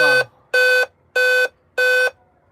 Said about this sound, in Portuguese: Tá dando 4 bips.